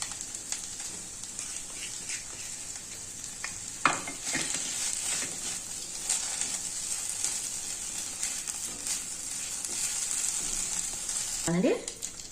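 Okra with green chili paste sizzles steadily in a frying pan, a close, continuous crackle with a couple of sharper clinks from stirring.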